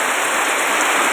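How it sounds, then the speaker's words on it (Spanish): Heavy rain pours down in Iparía, Pucallpa, a dense, even hiss of falling drops filling the whole moment, loud and close with no talking. "empezó la lluvia en Iparía"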